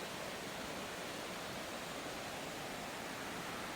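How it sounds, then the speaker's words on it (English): A river flows over rocks among fallen trees in a wooded area, a continuous soft hiss of rushing water with no other sounds. "The river's down here."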